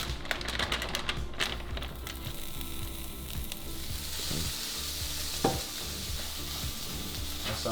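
Flank steak, eggs and diced potatoes fry in a pan with a steady loud sizzle, broken by sharp scraping and clacking stirs early on that thin out into a continuous crackle.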